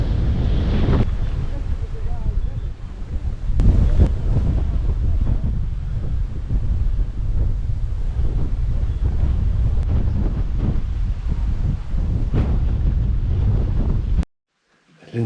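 Strong wind on Lindisfarne, Holy Island in Northumberland, buffets the microphone in a loud, continuous roar with a few sharper gusts, ending abruptly in near silence.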